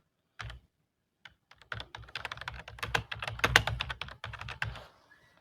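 Typing on a computer keyboard, close and quiet: a short burst of clicks, a pause, then a steady run of rapid key taps that thins out toward the end.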